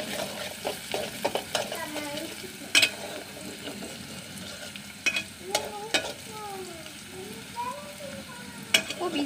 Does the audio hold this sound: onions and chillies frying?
yes